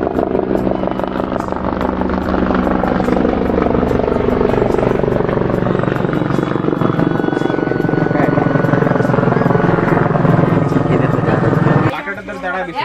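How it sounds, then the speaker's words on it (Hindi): A helicopter flying overhead at night above a farm: a loud, continuous rotor drone that dominates for about twelve seconds before dropping off sharply, with people talking over it. "हेलीकॉप्टर आ रहा है, हेलीकॉप्टर हेलीकॉप्टर भाई।"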